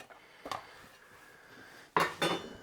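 Chopped onion rings dropped into a food container during kitchen meal prep: a soft clatter, then a couple of louder knocks and clunks against the container near the end, close by in a quiet room.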